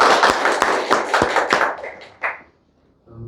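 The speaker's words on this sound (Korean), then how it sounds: "박수 한번 보내주시죠" A church congregation at a Sunday service applauds with a burst of sharp, loud claps that thin out to a few scattered final claps before falling quiet.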